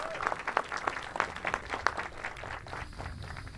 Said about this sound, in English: I'd like all of you to join me in a round of applause for these great cadets